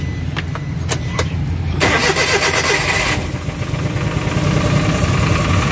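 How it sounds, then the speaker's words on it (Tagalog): A Suzuki K6A fuel-injected engine cranks over briefly and catches, then settles into a steady, loud idle close by with no talking. "i-start natin yung makina"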